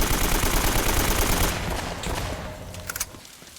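Video game gunfire rattles off in a dense, loud burst of rapid shots, then cuts off and gives way to a few scattered, fainter pops.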